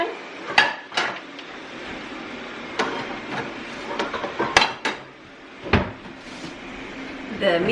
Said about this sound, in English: So I'm gonna wash dishes and just wipe the kitchen down.